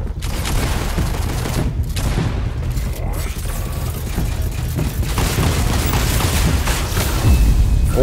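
Dense gunfire and booms in a Fortnite match, loud and continuous, with rapid bursts and heavier blasts blending into a chaotic wall of game combat sound.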